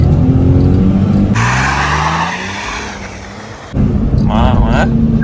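A small Ferrari driven on a race circuit, its engine roaring loud and close, then briefly fading as it pulls away before surging back strongly, with tire noise and people speaking over it.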